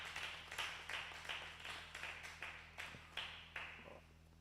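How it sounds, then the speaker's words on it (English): Sparse, evenly spaced claps at a business seminar for young people, roughly two per second and fairly faint over a steady low hum, like a small audience giving a thin round of applause. "A round of applause for him,"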